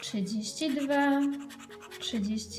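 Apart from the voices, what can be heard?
No everyday noises stand out.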